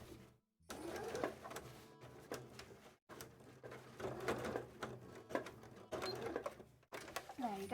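A sewing machine stitches fabric for a cosplay contest costume in short mechanical runs broken by brief pauses, close by, with a person talking over it.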